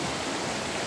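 River water flowing in a steady, dense broadband rush, close and continuous with no breaks or voices.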